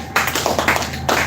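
A youth programme audience claps in a brisk classroom style, a dense run of overlapping handclaps that starts abruptly, pauses briefly and picks up again.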